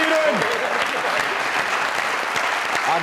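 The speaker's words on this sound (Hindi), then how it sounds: "आप लोगों की बहुत सारी तालियों में सिल्वर स्क्रीन की बहुत बड़ी हीरोइन" Loud crowd applause greets an actress's entrance on a comedy stage show, a thick steady clapping roar with faint cheers and voices mixed underneath.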